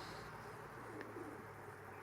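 Pigeons coo softly beside a dovecote under a rowan tree outdoors, low murmuring calls heard faint and somewhat distant over a quiet hum of background ambience, with no voices.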